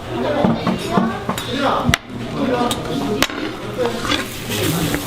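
Pork belly, potato and onion sizzle steadily on a hot stone griddle at a Korean samgyeopsal restaurant, with a few sharp clinks and taps of utensils over a busy background murmur of people talking.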